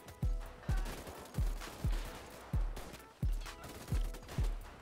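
Gunfire in the video game GTA 5 comes as a steady run of booming shots, about one every half second, each with a short decaying tail, fairly loud, with no talking.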